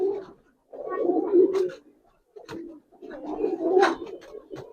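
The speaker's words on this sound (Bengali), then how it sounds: "এটা তাম্বালাল কবুতর, লাল তাম্বালাল কবুতর" A red Tambalal pigeon coos close by in two long throaty bursts with a pause between, loud and rolling, with brief soft clicks and no talking.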